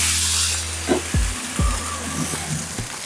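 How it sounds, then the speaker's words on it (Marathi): Oil and a splash of water hitting a hot dosa griddle, a broad continuous sizzle and hiss close up, with no talking over it. "तवा चांगला तापलेला आहे आता त्याच्यावरती थोडंसं तेल घालूया आणि थोडासा पाण्याचा हप्ता मारूया"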